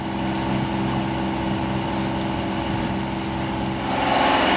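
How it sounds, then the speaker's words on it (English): Power catamaran motoring on open water nearby, heard as a steady, broad engine drone with water rush that holds constant throughout and swells slightly toward the end. "Got a power cat coming up behind us."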